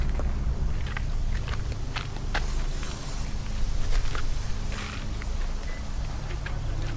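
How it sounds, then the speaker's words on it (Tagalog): Aerosol insect repellent sprayed against mosquitoes in a parking area, several short hissing bursts over steady outdoor background noise. "Mag-spray lang tayo kasi baka malamok."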